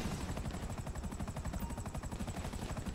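A helicopter in the video game GTA 5 thumps with a steady, rapid rotor beat at moderate level, a continuous chopping pulse with no talk over it.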